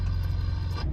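A truck engine idles in the cold, a steady low diesel rumble filling the moment without a break, loud and close, with no voices over it.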